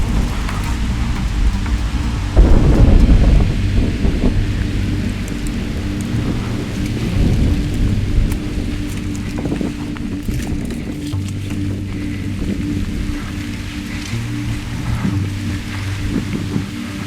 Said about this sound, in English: Storm got worse and worse, and as you can see, this wind's blowing